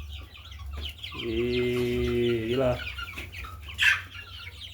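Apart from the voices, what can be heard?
chickens clucking on a poultry farm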